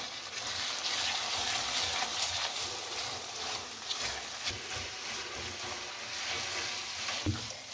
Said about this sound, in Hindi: अब इसका फ्लेम थोड़ा सा हाई करें और इसे मिक्स कर दें